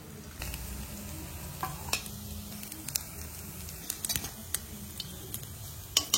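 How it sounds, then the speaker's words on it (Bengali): Bora fritters fry in hot oil with a steady, soft sizzle, broken by sharp clicks and taps of a utensil moving them in the pan; no voices. "বন্ধুরা গরম গরম বড়া ভাজা"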